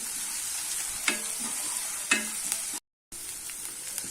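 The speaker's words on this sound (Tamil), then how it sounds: "கொஞ்சமாக உப்பு போட்டு வெங்காயத்தை வதக்கலாம்" Onions sizzle steadily in a hot pan with curry leaves and a pinch of salt, a constant frying hiss broken by a few sharp stirring scrapes, close and alone without talk.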